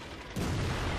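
Tank destroyer cannon shot in World of Tanks (AMX AC mle 1948, Tier 8), a single heavy booming blast that hits abruptly and rolls on as a dense low rumble, loud and alone.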